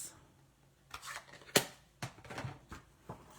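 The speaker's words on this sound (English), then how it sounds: "Let's die cut this." A paper sentiment is cut with a die in a die-cutting machine, giving a few short, quiet crunches and scraping clicks, one sharp snap standing out, close up with no voices.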